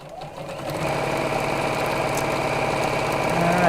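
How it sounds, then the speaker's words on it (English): A domestic sewing machine runs continuously, stitching around the edge of the front panel of a cushion cover, with a steady rapid mechanical whir close to the microphone and no pauses. "I'm sewing around the edge of the front of the cushion cover"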